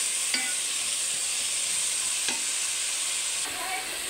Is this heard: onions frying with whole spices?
yes